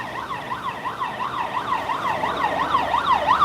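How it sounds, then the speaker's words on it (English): Ambulance siren wailing up and down in a steady rising-and-falling pattern on a street in Pattaya, growing gradually louder as it approaches over passing traffic noise. "There's an ambulance coming behind me very quickly."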